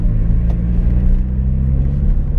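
Steady, loud low-pitched drone of a 2015 Subaru BRZ flat-four engine breathing through a Buddy Club Spec 2 exhaust with the silencer fitted, a constant deep rumble heard from inside the car while driving.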